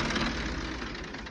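A tractor engine idles and runs steadily close by, a continuous low mechanical drone with no talk over it.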